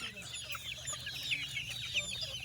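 Chickens at a farm in Kapatagan, Lanao del Norte squabble and cluck, busy overlapping clucks and sharp squawks close by and fairly soft, continuous throughout.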